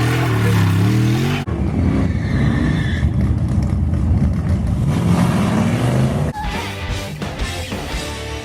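A Mopar Slant Six engine runs loud and close, a rough steady mechanical drone with a slight rise in pitch midway, then settling lower near the end.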